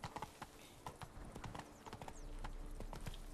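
Roach, the horse in The Witcher 3, gallops in a fast, uneven clatter of hooves that settles into a steadier drumming, faint and with no voices.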